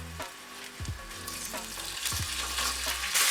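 Chicken sizzles and crackles in olive oil in a hot pan, a steady frying hiss with occasional low thumps and scrapes as pieces are moved.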